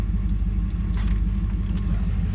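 A 1995 Chevrolet Camaro Z28 V8 idles nearby with a steady, deep low rumble and faint ticks on top, with no voices.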